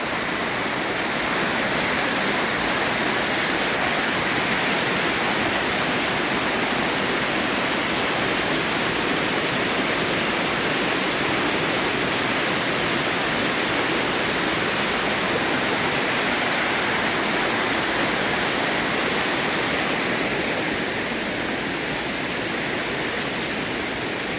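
Khlong Nam Lai waterfall in Kampaeng Phet Province, Thailand, pours in a steady, loud, close rush of flowing water that holds constant throughout with no talking.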